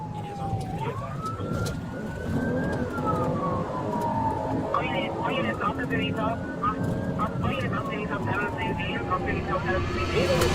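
A police car siren wails in slow rising and falling sweeps over a low rumble, with voices talking underneath.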